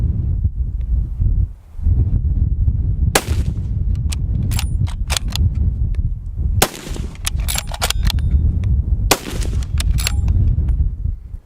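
A heavy rifle with a 26-inch barrel and muzzle brake fires three loud, close shots spaced a few seconds apart, each followed by metallic clinks over a constant outdoor rumble.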